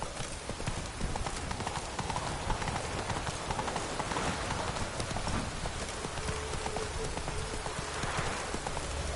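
Horse hooves clip-clop at a trot in a video game, a continuous rhythmic patter of hoofbeats at moderate loudness running throughout, with faint background game sound.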